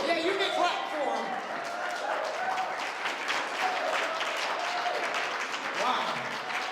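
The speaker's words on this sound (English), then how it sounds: "Yeah, you can clap for him." Audience applause for a performer at an annual MLK celebration of poetry and performances, a dense sustained clatter of many hands, with voices mixed into the clapping.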